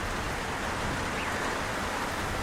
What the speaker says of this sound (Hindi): सब मिलकर तेज बारिश शुरू कर देते हैं।